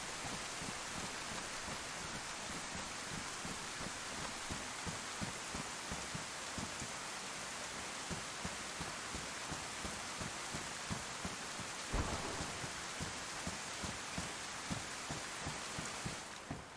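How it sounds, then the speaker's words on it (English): Steady rain pattering on surfaces in the DayZ video game, a dense continuous hiss with rapid drop impacts and a brief low rumble near the end, fairly quiet overall with no talking. "Trying to get us out of that rain."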